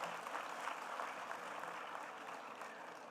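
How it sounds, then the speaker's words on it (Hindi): An audience at the Arya Mahasammelan convention in Jaipur, Rajasthan, gives steady, moderately distant applause, an even wash of clapping lasting a few seconds without speech. "एक बार जोर से तालियां बजाएं उनके लिए।"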